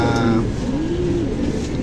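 Pigeons cooing close by in a loft, giving a low, continuous rolling coo with a faint trill on top, loud and unbroken throughout.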